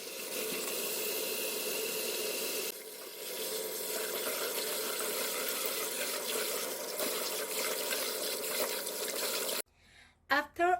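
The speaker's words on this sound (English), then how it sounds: "It's very clean, so just rinse twice is enough." Tap water runs steadily over lettuce leaves being rinsed in a sink, a continuous broadband splash that changes briefly midway and stops near the end, when a short burst of nearby speech follows.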